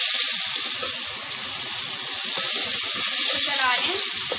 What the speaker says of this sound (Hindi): लहसुन को करके अब मैं टमाटर डाल रही हूँ